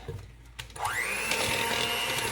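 An electric mixer whirs steadily on low speed through thick butter cake batter, starting after a brief quiet lead-in and then holding a constant motor hum close by.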